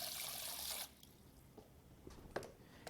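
Water runs from a tap over a trumpet valve for about a second, then stops, followed by faint drips and small clinks as the valve is shaken off, quiet and close.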